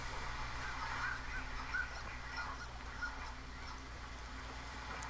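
A duck call sounds in the video game Firewatch, a few faint, nasal honking quacks scattered over a quiet outdoor background with no talking.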